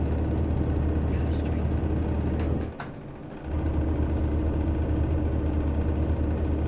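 Steady low drone of a Kenworth T300 truck engine in American Truck Simulator, hauling about 20,000 pounds while pulling up to speed, with a brief hissing dip midway before the engine note returns.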